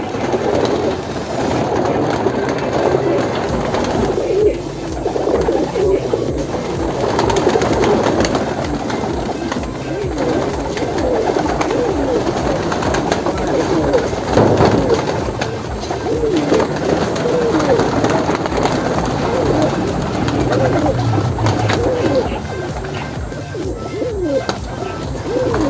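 Male pigeons cooing inside a cage in a village setting, a steady, dense murmur of overlapping low coos that runs unbroken for the whole stretch with constant background noise.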